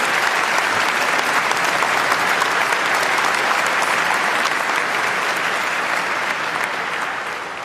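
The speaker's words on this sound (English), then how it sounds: "Another big round of applause for all of them." Sustained, dense applause from a large debate audience fills the room, steady and loud for several seconds before easing slightly at the end, saluting the panel at an Intelligence Squared debate on copyright.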